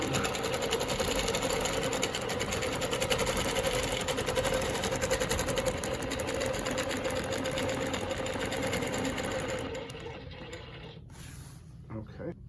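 Longarm quilting machine stitching Baptist fan patterns, a steady loud mechanical whir with rapid rhythmic needle ticking that runs continuously and then drops off sharply near the end.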